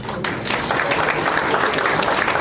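An audience claps after a dance performance at a bicentenary celebration of a supreme audit court, dense loud applause close by and continuous for the whole moment.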